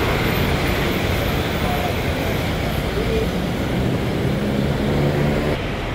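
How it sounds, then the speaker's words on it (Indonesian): A medium-sized Sumber Waras Putra bus pulls out of Tidar Terminal in Magelang, bound for Yogyakarta, its engine rumbling steadily amid continuous busy terminal traffic noise, loud and fairly close throughout. "Kemudian bis Sumber Waras Putra yang medium berangkat dari Terminal Tidar tujuan ke Yogyakarta"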